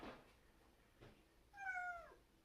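A pet cat gives a single clear meow near the end after quiet room tone, close and fairly soft, no one talking over it.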